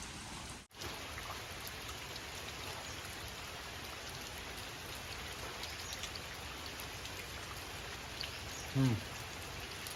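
Steady heavy monsoon rain patters throughout in the Konkan region, a continuous close hiss of drops with a brief soft knock near the end.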